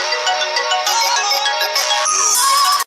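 A mobile phone rings with an incoming call, its bright electronic ringtone melody playing loud and unbroken for just under three seconds, with no talk over it.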